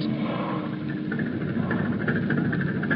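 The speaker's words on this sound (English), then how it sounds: "Those are the turbines turning over as the cruiser slips from the harbor under sealed orders in the dead of night." Low rumbling churn of a cruiser's turbines turning over as the warship leaves harbor at night, a steady mechanical drone with faint higher whirring, continuous and moderately loud on an old radio broadcast.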